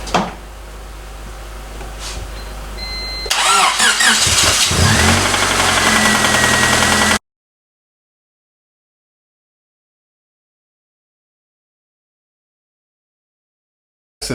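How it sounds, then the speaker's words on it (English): A 1999 Honda Civic engine with a worn bearing and rod knock cranks, catches and runs loudly and roughly for about four seconds, then cuts to silence. "obviously we still have a problem, that bearing, the rod knock in there"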